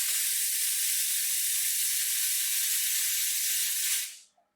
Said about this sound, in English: This machine has these fancy steam modes, completely cool touch.